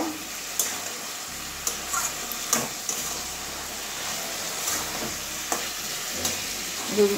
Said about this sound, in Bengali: এবারে ভেজে রাখা আলু পটল দিয়ে দেবো। সবগুলো আবার একসঙ্গে কষিয়ে নেব।